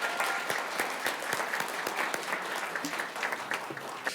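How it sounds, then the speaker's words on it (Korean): Audience applause at the closing and award ceremony of a legal courtroom advocacy competition, moderate steady clapping with a few sharper claps standing out and faint voices underneath. "다음으로 형사재판장으로 수고해 주신 차문호 서울고등법원 부장판사님을 큰 박수로 맞이해 주시기 바랍니다."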